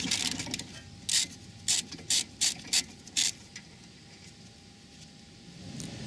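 A ratchet undoing a rear brake caliper bolt on a Dodge Grand Caravan, giving a quick series of sharp mechanical clicks in short bursts close by, then a steady low background hum.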